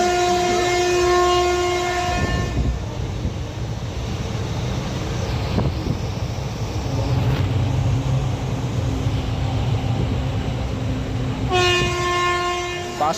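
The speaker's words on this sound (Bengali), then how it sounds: "এখনই ট্রেন চলে আসবে।" A train pulls into a station platform with a long, loud horn blast, then a steady heavy rumble of passing carriages, then a second prolonged horn near the end.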